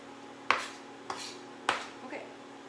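A knife chops garlic on a cutting board in three distinct sharp strikes about half a second apart, each with a brief ringing tail, followed by a softer scrape, close and clear over a quiet room hum.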